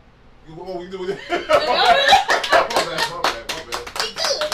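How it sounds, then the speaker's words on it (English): In a podcast studio, a few people break into a burst of hand claps just after a brief spoken question, the quick, loud claps mixed with chuckling and laughter. "I want to do an actual hand clap"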